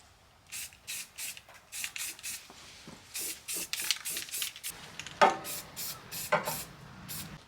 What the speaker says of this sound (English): We're going to go ahead and take some self-etching primer and just throw a little light coat on it before we do our paint.